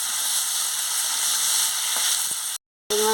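Potato and pointed gourd frying in a pan, a steady broadband sizzle that runs loud and unbroken, then cuts off briefly before resuming with a faint tonal hum.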